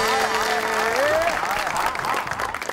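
Studio audience applause on a televised comedy talk show, a dense loud wash of clapping with a sustained musical tone and some voices mixed in.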